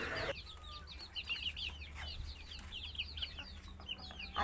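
Small chicks peep in rapid, high-pitched chirps, many overlapping calls repeating throughout, fairly faint against a low background hum.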